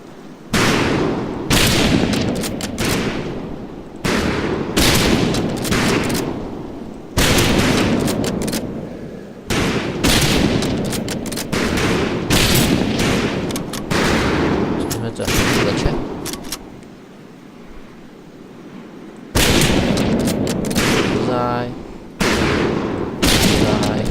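Rifle gunfire on a firing range in the video game Medal of Honor Pacific Assault: loud, dense volleys of overlapping shots in long bursts with brief lulls, continuing for most of the stretch.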